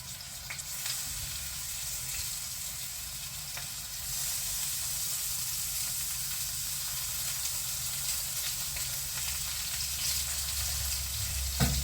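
Unbattered eggplant pieces sizzle and crackle steadily in hot oil in a small frying pan, a continuous close hiss that grows a little louder partway through.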